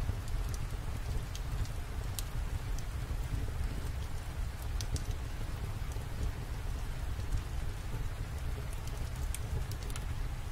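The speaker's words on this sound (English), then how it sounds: "The sound of rain is a gentle lullaby" Steady rain falls without pause, a dense even hiss with scattered close drop taps across a quiet homestead setting, constant level with no voices.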